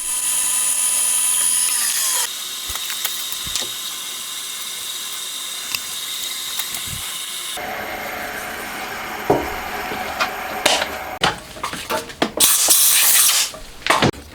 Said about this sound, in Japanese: センタードリルから始めてリーマーまで仕上げていき